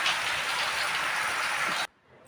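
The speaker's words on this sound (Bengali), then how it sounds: "প্রচুর বৃষ্টি হচ্ছে বন্ধুরা" Heavy rain, a dense steady hiss of downpour heard close and loud, cutting off abruptly near the end.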